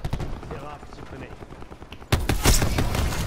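Gunfire in Call of Duty Black Ops 4 rattles in dense, loud rapid bursts that start abruptly partway through, following a stretch of quieter game sound with a voice talking.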